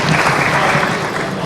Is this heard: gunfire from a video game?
no